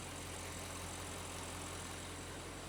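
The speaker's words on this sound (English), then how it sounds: "This engine valve train is pretty loud." Audi TT 4.0 engine idling with a loud valve train, a steady low rumble with constant mechanical clatter throughout, close and even with no talk.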